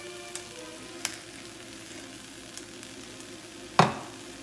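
A pan of salmon simmering softly with a low steady sizzle, quiet and close, broken by a few light clicks and one sharper clatter near the end.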